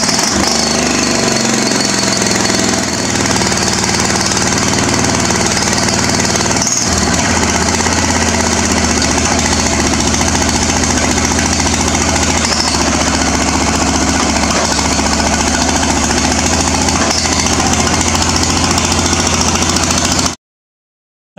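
A John Deere lawn tractor engine starting cold and then running steadily, with a loud, rough, knocking idle that carries on close by for about twenty seconds and cuts off sharply at the end.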